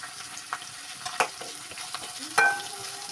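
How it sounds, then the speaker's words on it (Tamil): Green chilies sizzle in a hot pan for a chicken gravy while a spoon stirs and scrapes them, with a few sharp clinks of utensil against metal over a steady frying hiss. "அப்புறம் பச்சை மிளகாய் போட்டு நல்லா வணக்கிக்கோங்க"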